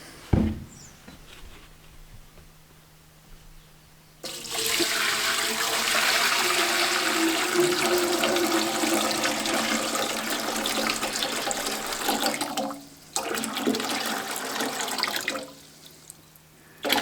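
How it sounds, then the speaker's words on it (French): Hot water pours into an ultrasonic cleaner tank for cleaning valves from a Yamaha Xmax 125 scooter, a loud steady splashing gush lasting several seconds, briefly pausing, then resuming before stopping. "Donc là je mets de l'eau chaude."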